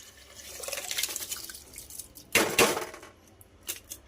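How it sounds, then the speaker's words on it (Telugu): Water and rice pour into a pressure cooker with soft splashing and trickling, then a louder rush of liquid hits the pot before a few faint drips and clinks close by. "డైరెక్ట్ కుక్కర్లో వండుకుంటున్నాం కాబట్టి ఈ వాటర్తో పాటు ఈ రైస్ కూడా వేసేసేయాలి."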